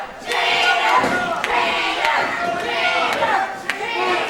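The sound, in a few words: energetic wrestling crowd cheering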